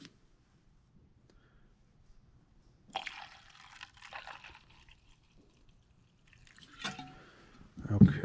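Fuel is poured into the tank of a 1992 Arctic Cat Kitty Cat snowmobile during carb work, heard as brief trickling and splashing bursts, near and fairly soft, separated by quiet gaps.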